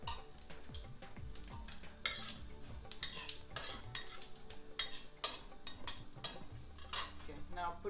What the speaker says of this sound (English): do is put this dry garam masala in there. And give it a stir a bit.